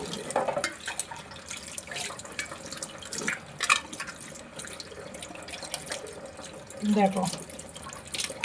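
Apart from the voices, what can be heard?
washing brass puja utensils under running tap water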